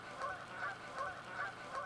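Several geese honk repeatedly in a loose rhythm, their nasal calls rising and falling at a moderate distance over a quiet outdoor background.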